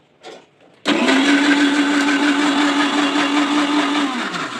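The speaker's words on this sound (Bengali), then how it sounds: "এখন ব্লেন্ডারে একটা ঘুল্লি দিতে নিয়ে যাচ্ছি" An electric kitchen blender starts up abruptly and runs at a steady high whine with a strong, continuous motor drone while blending mayonnaise ingredients with soybean oil; a few faint handling sounds precede it.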